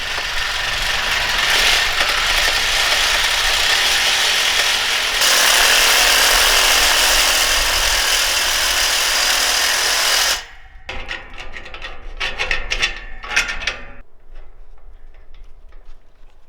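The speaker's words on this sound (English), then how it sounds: "So I got a replacement bolt, and I'm gonna have to cut this old one off." A tool cuts off a bent bolt on a solar tracker arm with a loud, steady broadband roar for about ten seconds, then stops abruptly, leaving scattered metallic ratcheting clicks and rattles.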